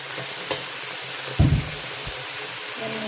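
Chicken chow mein with soy sauce sizzles steadily in a pan, with a sharp burst of scraping and tossing as it is stirred partway through, then the frying hiss continues.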